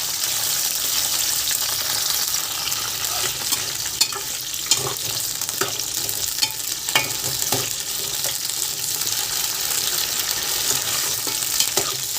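Brinjal pieces frying in a pan for a prawn and stuffed brinjal curry, giving a loud, steady sizzle with constant crackle and spitting that runs the whole time, close by and without speech.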